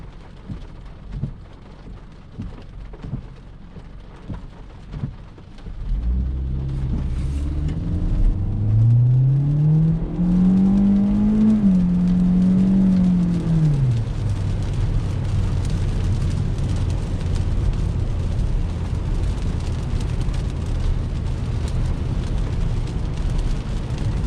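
A 2021 Hyundai Elantra with a naturally aspirated 2.0 engine launches from a brake boost, starting at a quiet idle, then a loud surging roar climbs in pitch, shifts down, and settles into a steady cruising drone.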